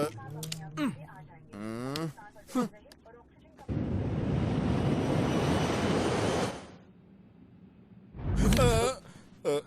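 Inside a shaking airplane in flight in a film scene, a loud, sustained roar of engine and cabin noise swells for about three seconds between bursts of excited talking.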